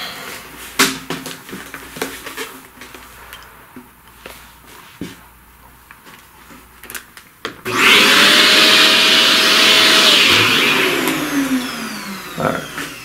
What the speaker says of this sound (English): Let's vacuum that mess.